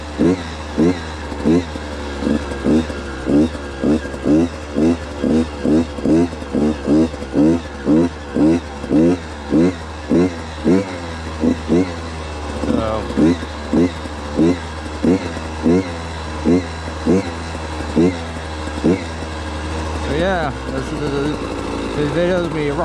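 A Beta dirt bike engine riding through muddy woods gives a loud, pulsing drone that rises and falls in quick rhythmic surges as the throttle opens and closes, followed by a steadier rumble.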